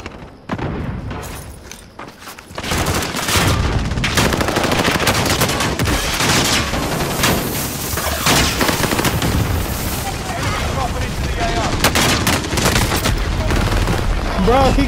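Rapid gunfire and heavy bursts in Call of Duty: Modern Warfare, loud and nearly continuous after a brief quieter opening, with a voice shouting at times over the shooting.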